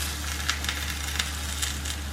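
Plantains frying in ghee in a pan, a steady close sizzle with faint crackles and small pops, no voices.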